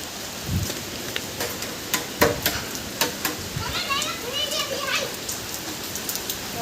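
Steady rain patters and splashes on a hard surface at a roadside Mahadev temple, with scattered sharp drops and faint voices in the background.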